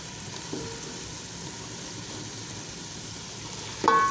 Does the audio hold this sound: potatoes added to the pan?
yes